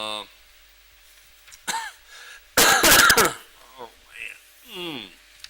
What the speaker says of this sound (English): I still can't get over this cough